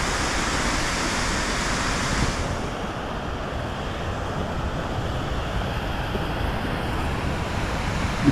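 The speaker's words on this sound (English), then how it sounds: "You can really see the water coming off the waterfall up here." Waterfall near the old Chilkoot Mine in Juneau, Alaska: a loud, close, unbroken roar of rushing water, steady throughout, with wind buffeting the microphone.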